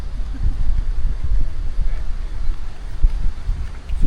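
Strong wind buffets the microphone in low, rumbling gusts, with a voice speaking underneath.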